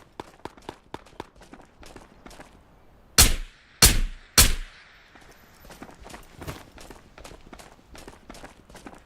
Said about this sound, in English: It's just gonna be purely the sound of gunfire.